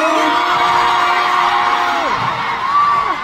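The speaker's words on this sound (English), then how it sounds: "If you're having fun, scream louder!" A concert crowd at a K-pop fan meeting in Manila screams and cheers loudly and continuously, a dense sustained roar of many voices with shrill whoops rising over it.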